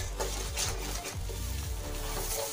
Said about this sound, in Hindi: हल्दी पाउडर डालेंगे और अच्छे से भुनेंगे।